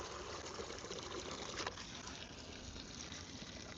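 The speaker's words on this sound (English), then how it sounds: "so we'll turn the hose off real fast" Well water running from a garden hose in a backyard, a steady faint trickling and gushing stream that continues unbroken throughout, with no talking.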